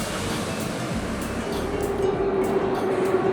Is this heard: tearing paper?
no